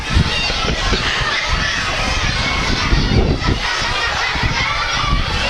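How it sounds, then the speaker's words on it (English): A noisy crowd of children cheering at an ice hockey game, a dense, steady roar of many young voices filling a rink, loud and continuous, with a commentator talking over it. "Crowd still a lot of noise though, a lot of action."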